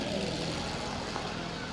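A car engine runs at a steady idle in a Moroccan street setting, a continuous mid-pitched hum with people talking over it.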